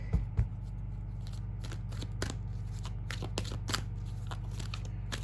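A deck of cards is shuffled in a quiet room, giving close, crisp riffling and flicking bursts over a low steady hum.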